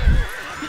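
A horse whinnies in the Lego Lord of the Rings video game, a short loud burst with a strong low rumble that quickly fades into quieter game background.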